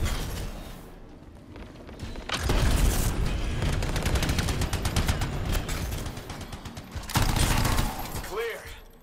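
Sustained fusillade of gunfire from soldiers in the video game Anthem, dense rapid shots with heavy booming bursts around the middle and again near the end, loud and continuous with a brief lull early on.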